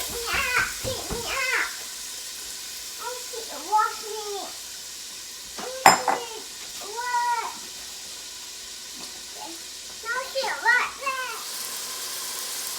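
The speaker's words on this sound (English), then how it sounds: "We've got our onions sweating." White onion and jalapeno sweat in a pan for elk chili, giving a steady soft sizzle under a child's high-pitched voice and an adult talking.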